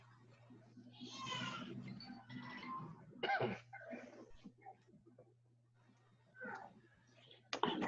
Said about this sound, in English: please excuse me if you guys hear a few coughs